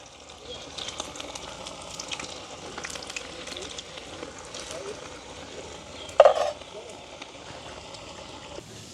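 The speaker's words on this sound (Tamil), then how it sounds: "அதோட வந்து தட்டி வச்சிருக்கிற வடையை நாங்கள் பொறிச்செடுப்போம் எல்லா வடையும் இப்படியே பொறிச்செடுப்போம்" Semolina (rava) vadas fry in hot oil outdoors in a village, giving a soft, steady bubbling sizzle under intermittent talking, with one brief louder clatter partway through.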